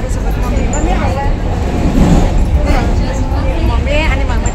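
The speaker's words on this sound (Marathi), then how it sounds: "मी पहिल्यांदा AC ट्रेन प्रवास करत आहे महालक्ष्मीला." An AC suburban train rolls through Mumbai with a loud, constant low rumble of wheels and motors inside a crowded carriage, and a murmur of passenger voices runs underneath.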